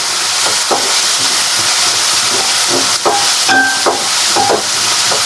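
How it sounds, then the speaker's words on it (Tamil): Salt and curry leaves sauté in a pan with a steady, loud hiss of sizzling, broken by a few sharp utensil knocks and scrapes at irregular intervals, and no one speaks. "உப்பு போட்டு வதக்குறோம். இந்த ஸ்டேஜில் பார்த்தீங்கன்னா கருவேப்பிலை சேர்த்துக்கோங்க."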